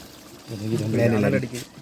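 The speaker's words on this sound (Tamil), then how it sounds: "தண்ணி ஊற்ற போகிறோம்." Water poured into a large pot for a Dindigul-style mutton biryani, a short gushing, splashing pour that swells midway and tapers off, with someone speaking nearby.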